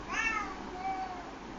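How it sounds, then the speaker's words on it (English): A single short cat meow, soft and somewhat distant, rising then falling, with a second fainter mew trailing after it. "You just heard a meow, and that's my cat."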